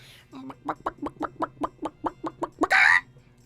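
A voice imitates a chicken: a run of rhythmic clucks, about a dozen evenly spaced, ending in a louder squawk.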